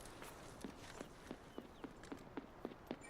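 Footsteps of a team running in the video game Delta Force patter quietly, about a dozen quick regular steps spaced under half a second apart, faint and somewhat distant over a low background hiss.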